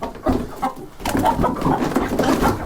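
Chickens, ducks and a rooster being moved into a pigeon area give off a close, continuous mix of clucks and squawks, with bursts of louder calls and no talking.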